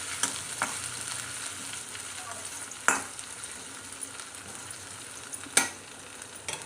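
A few dried red chillies fry in oil in a pan, a soft continuous sizzle with occasional sharper pops and stirring scrapes, heard alone without talk.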